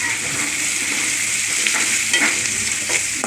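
Onions fry in a pan for dill rice, giving a loud, even crackling sizzle with faint scraping of a stirring spoon, close and uninterrupted, with no voices.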